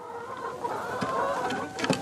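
Laying hens on a small egg farm with about 100 birds keep up soft, overlapping clucks and murmurs, with a few sharper calls near the end over a steady background hum.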